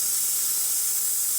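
A Profitec SSR espresso machine's steam wand blasts a loud, steady, high hiss without a break, close and alone.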